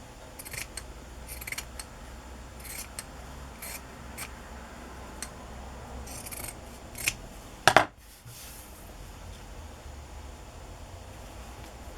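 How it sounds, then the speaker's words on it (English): Scissors trim a piece of folded fabric for decorating a journal page: faint light snips early on, then one sharp, close cut, all against a quiet room hiss. "I'm just going to fold it, do a little trimming."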